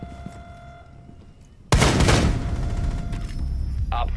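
A frag grenade in Rainbow Six Siege bursts suddenly after a quiet moment, a loud sharp blast followed by a rumbling, debris-filled tail that lingers for a couple of seconds.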